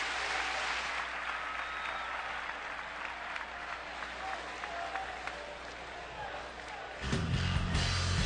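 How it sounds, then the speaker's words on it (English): Distant crowd applause at a college baseball game, soft and sustained, with a low thump and a rise in background noise near the end. "those who have made the trip from the East Coast give Jeremy a round of applause"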